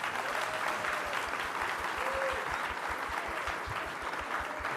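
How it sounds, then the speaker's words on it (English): A convention audience applauds the panelists at the close of a horror comics and mental health discussion, giving a full, even round of clapping from many hands that holds steady throughout. "Now, please, if you would applaud our panelists for today."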